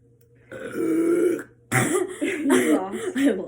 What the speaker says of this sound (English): I burped again.